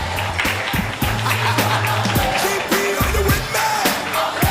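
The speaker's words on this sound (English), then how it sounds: "Round of applause for the beautiful Sophia Stewart, mother of the Matrix," Applause from a conference audience at the Remedy Conference, a continuous dense clatter of hands filling the room, with music or tonal voices running underneath throughout.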